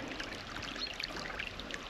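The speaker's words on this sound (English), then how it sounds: "That will dry the water off to stop it going into the tank, and this will then all come out" Water pours and trickles steadily out onto a farm field, a low, continuous watery rush at moderate distance with no voices.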